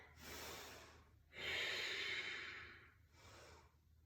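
Slow breathing during a yoga flow, close and soft: a long inhale, then a fuller, airy breath, then a shorter one, with quiet pauses between.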